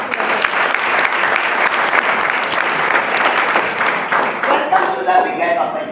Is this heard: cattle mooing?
no